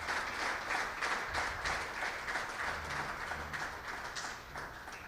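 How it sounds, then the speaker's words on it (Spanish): A church congregation applauds during a sermon, a continuous wash of many hands clapping that sounds fairly distant and soft and tapers slightly toward the end. "Denle un aplauso al Señor."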